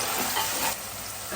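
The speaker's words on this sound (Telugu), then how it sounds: "ఉల్లిపాయల్లో ఉన్న నీరంతా ఇంకి బ్రౌన్ కలర్ వచ్చే వరకు వేయించుకోండి." Onion paste with mint and curry leaves fries in a pan for a South Indian mutton paya curry, giving a dense, close sizzle with scraping stirs through it.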